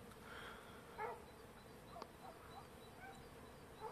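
Honeybees buzz around a flowering cornelian cherry tree near hives in Trabzon, a faint, continuous hum with a few closer passes, and a dog sounds briefly in the background.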